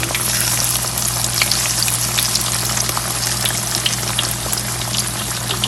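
Chicken pieces frying in hot oil for a chicken roast, a loud, continuous, dense sizzle with fine crackling spatters close by, steady throughout with a low hum underneath.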